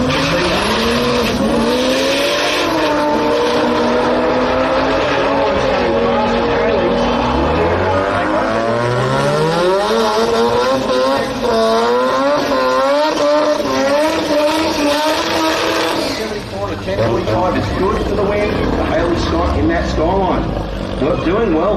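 Factory Extreme drag racing cars launching down a drag strip at the Garrett Brisbane Jamboree, engines screaming through rising gear sweeps with tyre squeal, loud and sustained, a commentator talking over it throughout.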